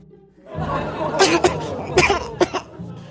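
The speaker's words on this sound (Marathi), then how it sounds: "बापरे ठसकाय लागला" A close, harsh coughing fit of several sharp, rapid coughs in bursts, mixed with throaty, wheezy breaths.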